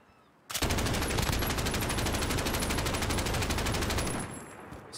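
A PKM machine gun in a first-person shooter fires one long sustained burst lasting about three and a half seconds, loud and dense with rapid evenly spaced shots, then cuts off; no talk over it.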